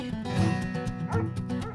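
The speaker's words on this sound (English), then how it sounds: "But the dogs drive Maica Griffin barking mad" Two dogs bark and yip in quick bursts close by, with whimpering mixed in and a steady, busy bark pattern throughout.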